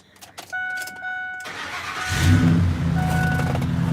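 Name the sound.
Ford Expedition engine starting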